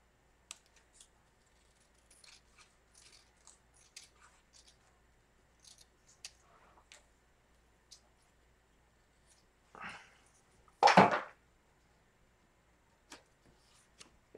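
Scissors snip through a photo transfer print on paper, a few quiet cuts leading to one loud, close crisp snip near the end.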